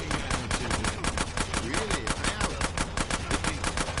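Rapid automatic gunfire in GTA San Andreas while shooting from a train: a dense, steady stream of loud shots close up, with no talk over it.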